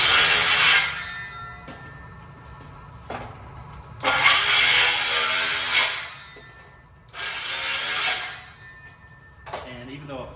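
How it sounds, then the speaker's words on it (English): Handsaw cutting through wood on an overcut, three bursts of close, loud rasping strokes separated by pauses, with a brief final scrape at the end. "I'm still going to use a handsaw on that overcut."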